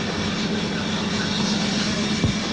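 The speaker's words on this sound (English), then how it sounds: "the engines are just lumping along very slowly there" Aircraft engines droning at slow cruise, heard from inside the airplane cabin as a steady, moderately loud hum with a constant low tone and a brief bump near the end, no voices.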